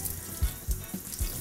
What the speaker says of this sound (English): Then turn on the cold water and get it wet.